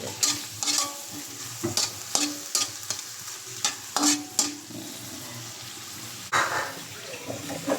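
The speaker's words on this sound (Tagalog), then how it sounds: "Gisa natin yung sibuyas." Onions sizzle and hiss in a hot pan as a spoon stirs them in irregular scraping bursts, with faint splashes of water, preparing a dish with isla fish from Palawan.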